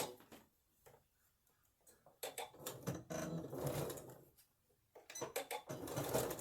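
A sewing machine stitches a seam close to the fabric edge in contrast thread, running in two short bursts of rapid stitching separated by quiet pauses.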